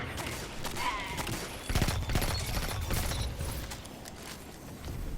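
Rapid pulse-rifle fire from the Outbreak Prime exotic in the Destiny video game crackles in dense bursts with brief gaps, mixed with other game effects at a moderate, steady level.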